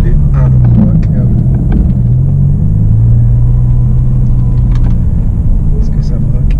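A BMW M5 E60 being driven, its engine and exhaust producing a loud, steady, deep rumble that swells and eases slightly as the car moves, with someone talking over it.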